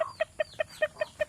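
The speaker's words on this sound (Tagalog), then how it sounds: "Itong pinakamalaking chicken." Chickens at a farm that raises chickens and ducks give a quick series of six or seven evenly spaced, sharp clucks, close and clear over quiet background, with no talking.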